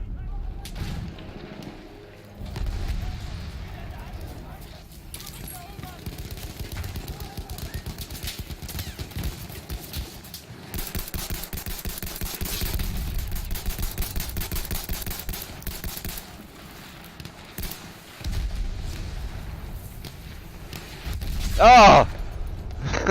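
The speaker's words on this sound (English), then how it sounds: "I heard the artillery incoming." Artillery shells land in the World War I shooter Battlefield 1, producing heavy booming blasts and rumbling gunfire that roll on almost without pause through a dense, loud battle soundscape.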